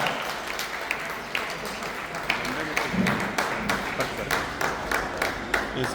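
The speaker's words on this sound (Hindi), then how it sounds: "तालियां जरूर बजाया" Audience applause at a company meeting, a steady wash of clapping from a crowd with sharper individual claps standing out, continuing throughout with voices mixed in beneath.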